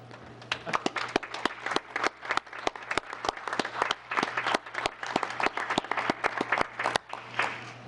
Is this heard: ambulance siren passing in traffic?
no